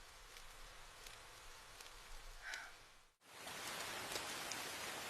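Rain falling outdoors, a soft steady patter that breaks off with a brief dip and returns as a louder, denser hiss, with faint insect buzzing and no speech.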